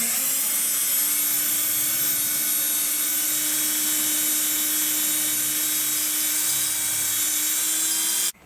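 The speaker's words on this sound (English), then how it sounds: "Now drill all 6 holes." A power drill drilling holes into a wall whines at a steady high pitch without pause for about eight seconds, then cuts off abruptly. It is close and loud.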